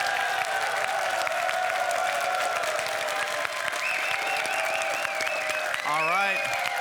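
Applause from an audience for the winner of a Clash of Clans Builder Base YouTuber tournament, a steady continuous clapping wash with musical tones and voices mixed in, fairly loud throughout.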